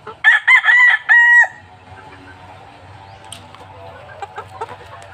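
A Sweater Kelso gamefowl rooster crows loudly and close in a broken, stuttering call lasting about a second and a half, followed by quiet farmyard background with faint scattered clicks.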